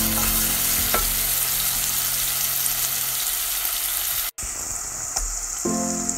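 Spicy masala chicken frying in a pan while being stirred, a dense, steady close sizzle with occasional scraping, a brief cut, then frying continuing more quietly under faint music.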